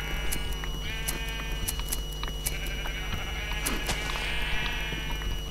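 Sheep bleat repeatedly in the Minecraft video game during survival play, several clear, loud calls overlapping one another against a steady background hum, with no talking.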